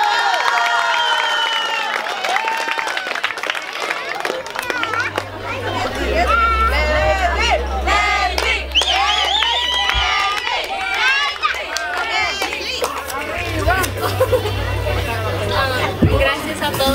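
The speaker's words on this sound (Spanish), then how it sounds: "Y esos aplausos" Applause and cheering ring out from a crowd at a quinceañera party, mixed with excited chatter and hubbub, over a low thumping music bass that starts partway through.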